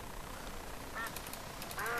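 A duck quacks in the Minecraft video game, a few short faint nasal quacks over steady background game noise, with no talking.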